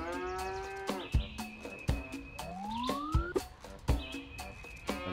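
Cartoonish cows moo repeatedly in the video game Cow Catcher, several overlapping calls mixed with sharp thuds and a rising siren-like sweep, all fairly quiet.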